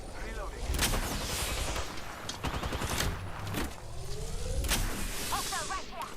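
Gunfire in a sci-fi shooter video game, with dense bursts of rapid shots and heavy booming impacts rolling in close succession, a few whooshes between volleys, loud and continuous.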